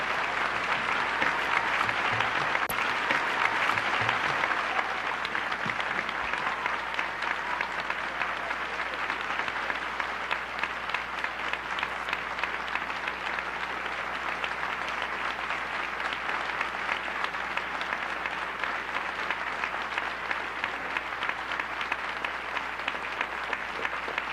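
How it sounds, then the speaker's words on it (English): A large audience applauds the panelists at a 1992 international war tribunal, sustained dense clapping that stays even and continuous for over twenty seconds, with no speech over it. "We want now to applaud the panelists here and the millions who support the work of the tribunal."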